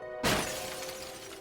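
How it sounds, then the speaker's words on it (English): Glassy mirror-like shatter of the collector's face in the fishing game Dredge, a sudden loud crash followed by a tinkling, scattering tail of falling shards that fades slowly over a steady musical drone. "His face shatters and falls to the ground."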